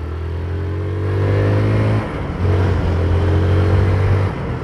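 Motorcycle pulling away in traffic near a highway return lane, its engine note rising in a steady tone, dipping briefly at a gear change, then climbing again, loud and close with road noise underneath.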